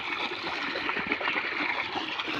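Irrigation water, pumped by a diesel machine, flows through a channel in a farm field. A steady, close rush and trickle runs without pause, with light splashing over it.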